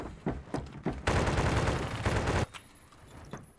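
Automatic gunfire in the Phantom Forces shooter game: a few separate shots, then a sustained loud burst of about a second and a half, followed by quieter scattered sounds.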